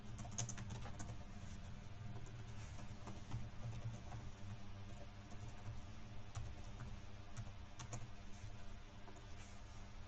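A computer keyboard is typed on while a registration form is filled in, giving a steady run of light clicks and taps over a constant low hum, with no voices.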